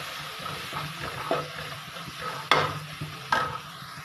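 Spices such as red chili, coriander powder, garam masala and salt are stirred in a hot pan for a potato-eggplant curry, with a low steady sizzle and a few sharper scrapes of the spoon against the pan.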